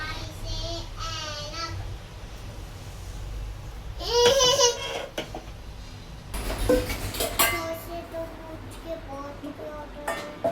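Freshly washed utensils and pots are unloaded and put away in a home kitchen, with intermittent clinks and clatters of metal, a louder burst near the middle, while a small child babbles and laughs nearby.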